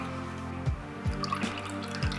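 Lemon juice drips into a bowl in three separate soft plops spaced about half a second apart, close and quiet, with no talking.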